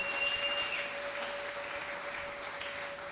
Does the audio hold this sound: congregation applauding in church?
yes